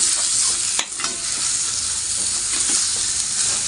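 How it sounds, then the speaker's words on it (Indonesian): Baby squid sizzles loudly in a pan with lime leaves and galangal for a spicy rica dish while being stirred, a bright, constant frying hiss with a few scraping strokes. "Kita masukkan cumi-cuminya. Kita aduk."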